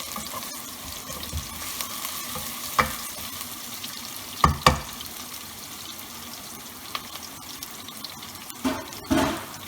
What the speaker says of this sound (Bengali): এখন আমি পেঁয়াজ কুচিগুলো দিয়ে দেব। পেঁয়াজগুলো দিয়ে 1 মিনিট নাড়াচাড়া করব।